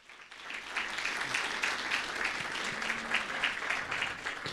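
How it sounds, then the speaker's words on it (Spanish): Sunday church congregation breaking into applause, clapping swelling quickly from quiet to a full, steady roar and staying strong, with faint voices underneath. "Más, por favor, fuertes aplausos."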